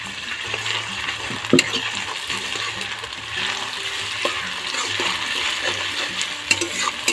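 Garlic paste sizzles and spits steadily in hot oil in a home kitchen pan, with a continuous crackle broken by occasional sharp clinks of stirring.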